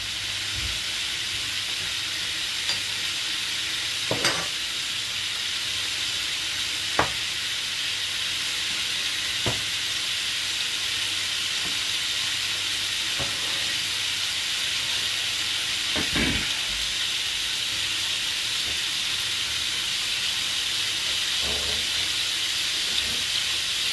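Salmon and cod fillets sizzle steadily in a hot frying pan, a continuous bright crackle with occasional sharper pops and spits, fairly close and without talk.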